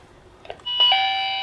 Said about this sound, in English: So it links onto a doorbell